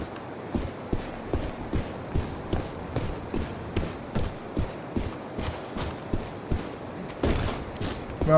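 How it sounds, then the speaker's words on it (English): Footsteps of a figure trailing the player through a video game, heard as a steady series of hollow, clopping steps with rhythmic thuds and a louder shuffle near the end. "I can hear his footsteps."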